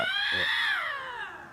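Cold-weather wild cat caterwauling from played footage, a single drawn-out yowling cry that rises then slowly falls in pitch over about a second and a half, fairly loud and close.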